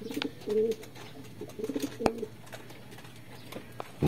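Pigeons cooing close by in a loft setting, several soft throaty coos in short bursts with a sharp knock or wing clap midway and light background rustling.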